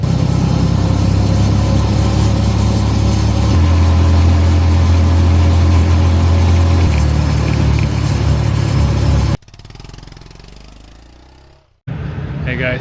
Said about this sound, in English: I'm now driving in a city area.